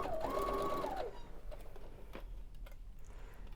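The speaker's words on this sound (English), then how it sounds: "So I'm just gonna sew all the way around it." A Baby Lock Brilliant sewing machine runs in a short, steady burst while stitching a fabric ironing board cover, then stops, leaving quiet handling sounds.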